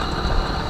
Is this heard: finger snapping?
no